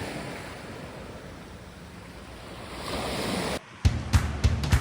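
Waves washing onto the pebble shoreline of Kourion Beach in Cyprus, a steady broad surf wash that swells louder, then a brief drop followed by several sharp pebbly clatters as the water draws back.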